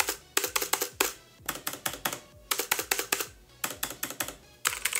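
Rapid, clattery keystrokes from a cheap RGB mechanical keyboard in quick bursts with short pauses, loud and close, each key producing a sharp click.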